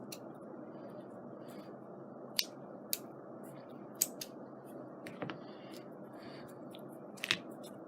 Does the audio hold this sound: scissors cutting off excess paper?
yes